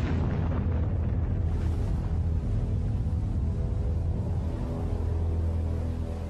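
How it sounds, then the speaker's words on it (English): A mid-air explosion of a ship comes across as one deep, loud, continuous rumbling boom that rolls on without a break, with no voices over it. "At this location, a ship reported seeing a mid-air explosion."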